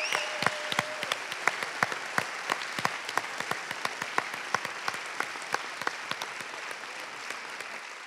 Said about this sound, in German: Ja, gerne einen Applaus,